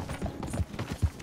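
Horse hooves during a ride in the video game Red Dead Redemption 2, a quick uneven clip-clop of hoofbeats at a moderate distance over soft rumbling ground noise.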